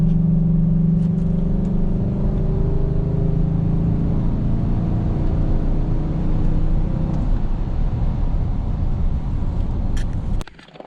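A 2014 Chevy Silverado with the 5.3L V8 and an S&B cold air intake, heard as a loud, sustained engine roar rising under acceleration for about ten seconds before cutting off abruptly.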